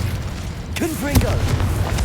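The Confringo fire blast spell in Hogwarts Legacy bursts into a heavy boom amid game effects, with a voice calling out over the rumble and a sharp crack near the middle.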